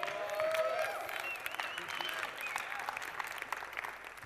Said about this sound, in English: Y'all, let's clap.